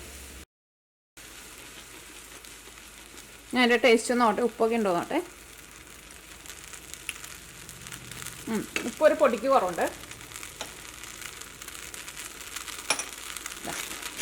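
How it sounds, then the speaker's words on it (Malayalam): Milk boiling in a pan, a soft steady bubbling hiss running throughout at low level, with a person speaking over it in two short stretches. "അപ്പോൾ നമ്മൾ പാല് നന്നായിട്ട് തിളച്ചിട്ടുണ്ട്"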